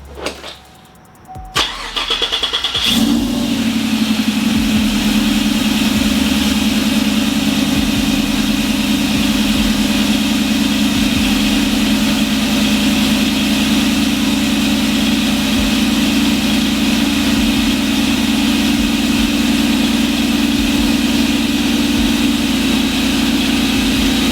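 A 2018 Chevrolet Silverado V8 fitted with a Procharger supercharger cranks briefly and fires, then settles into a loud, steady, deep idle with a constant supercharger whine held up close for over twenty seconds.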